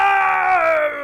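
A single long, loud scream from the Phoenix Wright: Ace Attorney video game, a sustained strained voiced wail that slowly falls in pitch and trails off.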